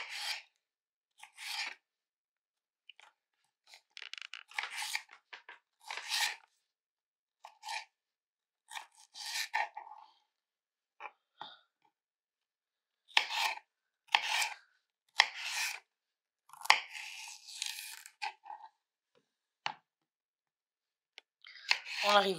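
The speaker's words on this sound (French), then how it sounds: "Moi je les coupe en lamelles." Knife slicing vegetables into thin strips on a cutting board for bolognese sauce, bursts of crisp cutting strokes separated by pauses.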